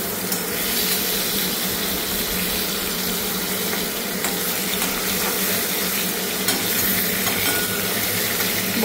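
Fish frying in a pan over a lowered gas flame gives a steady, loud, broadband sizzle with a watery hiss that runs unbroken for the whole stretch, with no voices.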